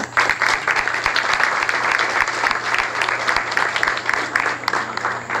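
An audience claps steadily at an evening health talk on hypertension, a dense, even wash of applause from a room full of people that holds constant throughout without any speech.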